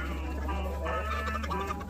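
Rare-breed chickens from a flock of many breeds cluck and murmur close by, a continuous layered chatter of soft clucks over a low steady background hum.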